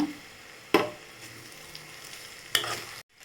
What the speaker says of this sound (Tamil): நம்ம சாதம் போட்டு கிளறலாம்